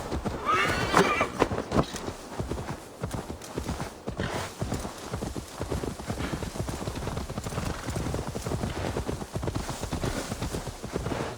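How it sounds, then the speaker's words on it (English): Steady clip-clop of horse hooves trotting along with a horse whinnying early on, a continuous rhythmic pattern with no talking, game sound effects from Assassin's Creed Valhalla. "Now to deliver Magni his horse."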